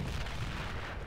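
World War I guns firing in the video game Men of War: Great War, a dense, rumbling barrage of low booms blending into a continuous roar with no voices.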